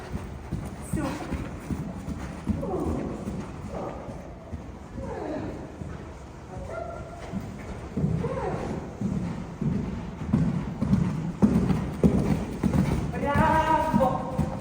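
A young horse trotting in an arena, rhythmic hoof clip-clops at a steady two-beat pace throughout, with a rider's voice talking over it.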